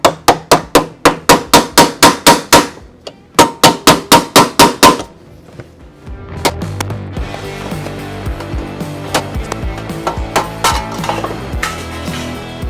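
A hammer drives a wood chisel to pop a body piece off a wrecked Mercedes E63 AMG-S. Rapid, loud, close metallic strikes come in two quick runs, then give way to softer scattered taps and clattering metal.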